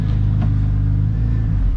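A 2004 Porsche 911 Turbo engine idles during a test, a loud, close, steady low rumble with an even throb and a slight dip near the end, no voices over it.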